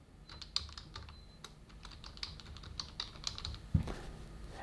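Quiet run of keystrokes on a computer keyboard, typed in an irregular rhythm with a single heavier knock near the end, heard close and alone.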